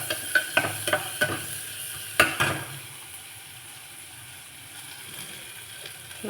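Onions fry in a pan toward golden while a spoon stirs them. Several sharp scraping clacks come early, then a soft, low sizzle continues alone up close.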